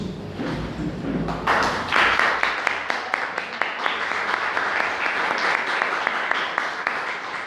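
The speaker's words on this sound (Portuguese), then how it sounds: "dê uma salva de palmas para Deus" A church congregation gives a round of applause during a Lent service, the clapping swelling after a second and then settling into a steady rhythmic beat of many hands clapping together.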